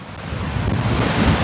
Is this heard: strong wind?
yes